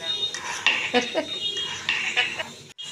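A utensil scrapes and clanks against a pot as a frying masala of bay leaf, turmeric and grated tomato is stirred, in repeated metallic knocks while someone talks.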